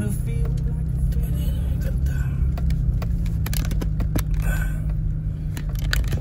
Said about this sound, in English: So we've been driving like 200 meters.